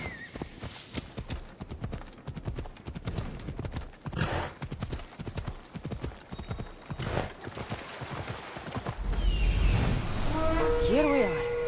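A horse gallops in Assassin's Creed Odyssey, its rapid rhythmic hoofbeats pounding steadily for most of the stretch, with a voice speaking over them and a louder rush of ambient noise and a whinny near the end.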